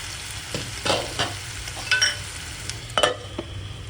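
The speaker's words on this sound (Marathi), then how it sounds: "1 मिनिट आपण बटाटा शिजवण्यासाठी ठेवूया झाकून" Potatoes and curry leaves for kanda poha sizzle and fry in a pan, with a few scraping stirs and soft clinks rising above a steady low crackle, close up and without talk.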